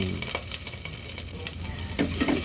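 Garlic sizzles in hot cooking oil in a casserole pot for pork belly sinigang, a dense steady crackle with scraping stir sounds, close and fairly loud throughout.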